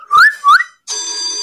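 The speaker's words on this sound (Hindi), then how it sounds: "बस इस तरह से सीटी मारना है" A person whistles two rising, sliding notes to trigger a misplaced phone's whistle-finder feature, followed at once by a steady ringing tone from the phone; close, clear, no talking.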